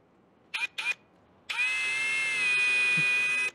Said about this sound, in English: I'm just letting the drill do the work here.